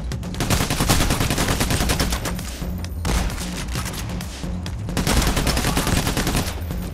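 Sustained gunfire in the video game PAYDAY: The Heist during a First World Bank robbery, dense overlapping automatic bursts and booming shots filling the whole stretch at a steady loud level, no talk.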